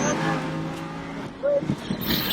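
A Lamborghini Huracan on a race track, its engine droning steadily as it accelerates, heard from inside under a man's spoken instructions.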